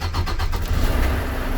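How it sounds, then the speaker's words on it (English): Volvo truck engine starting, a brief cranking chatter that catches into a loud, close diesel idle rumble. "Turn the engine,"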